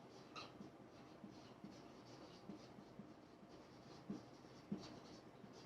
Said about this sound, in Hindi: सो यहां पर बोर्ड पर पूरा लिखता हूं बेटा